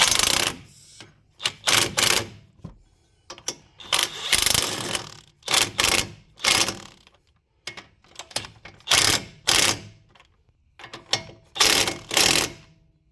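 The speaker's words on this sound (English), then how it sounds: "now we can go ahead and tighten them up using the 18 millimeter" Ratchet wrench with an 18 mm socket tightening the CV axle bolts on a 2004 Saab 9-5 Aero wagon, heard as repeated bursts of rapid clicking swings separated by short pauses, close and fairly loud, with no talking.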